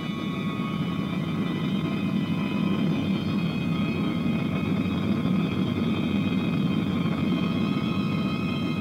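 Steady, loud jet airliner cruising roar for a British Airways flight, a broad continuous rumble with faint tonal whine, holding level throughout with no speech over it.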